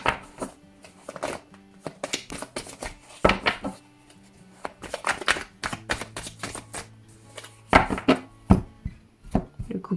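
Tarot cards being shuffled and cut produce sharp, irregular slaps and riffles, close and fairly quiet, with uneven bursts and pauses between them.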